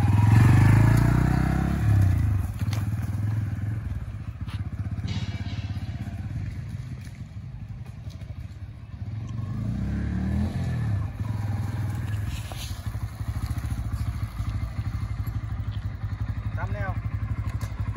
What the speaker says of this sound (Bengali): তো এখন আমরা বাজাজ বাইকটা পালসার। চালাইলাম